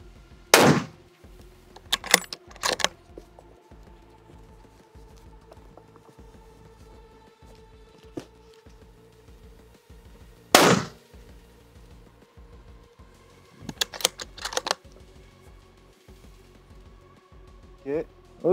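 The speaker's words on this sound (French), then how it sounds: "on va tester de tirer derrière une protec avec ça à courte distance" Scoped rifle fired at close range, about 15 metres, from behind protective cover: roughly six sharp, loud reports in uneven clusters, separated by long pauses filled with a steady low hum.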